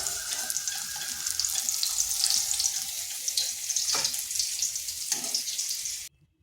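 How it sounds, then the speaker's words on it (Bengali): Sliced bitter gourd frying in hot oil in a pan crackles and hisses in a steady, bright sizzle, with a few brief scrapes of stirring near the end before it cuts off. "উচ্ছেটা এইভাবে নেড়ে চেড়ে ভেজে নিতে হবে, একটু লাল লাল করে ভেজে নিতে হবে।"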